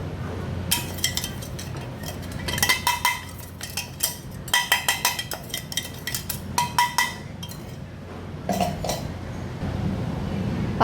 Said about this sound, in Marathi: तयार केलेले वाटण आपण एका ताटात काढून घेऊ